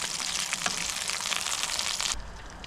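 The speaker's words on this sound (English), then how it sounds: "seems to be cooking like nice and gently, just as sausages should be cooked," Sausages frying gently over a low flame on a Fire Maple camp stove, giving a steady, close, soft sizzle that cuts off abruptly near the end.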